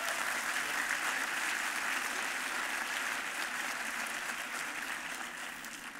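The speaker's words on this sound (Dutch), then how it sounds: "Laten we een applaus geven voor Liesje, tot ze het hoort." Dense, sustained applause from an audience at a D66 party congress, a continuous wash of many hands clapping that fades slightly toward the end, with no talk over it.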